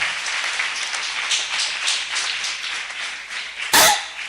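A church congregation breaks into broad applause and cheering for the Lord, a dense, steady wash of clapping and voices lasting throughout, with one sharp loud burst near the end.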